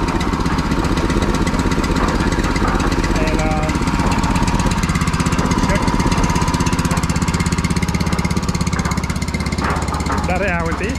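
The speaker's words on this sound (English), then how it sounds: "This is how the engine should work." A Honda petrol engine on a concrete mixer runs at a steady rapid putter, loud and close throughout, with someone speaking briefly over it.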